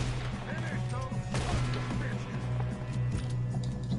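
Gunfire in the Red Dead Redemption 2 video game: dense, continuous shooting with sharp cracks and heavy booms layered over a steady low rumble, voices mixed in.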